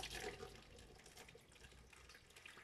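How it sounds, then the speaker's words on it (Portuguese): Boiled water is poured from a kettle into a pan on the stove to bake a homemade custard pudding, giving a quiet, continuous splashing trickle that stays soft and close. "agora vou colocar a água"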